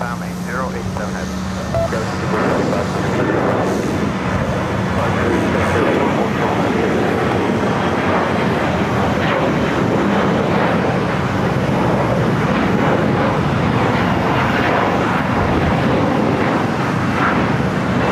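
An American Airlines A321neo takes off at Los Angeles International Airport, a loud, sustained broadband engine roar that stays level and continuous throughout.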